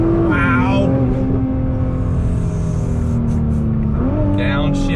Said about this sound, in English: But let's see how she accelerates again, shall we? Downshift, on throttle, here we go.